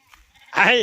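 A sheep being kept for washing gives one short, close bleat, loud and wavering, after a faint quiet stretch.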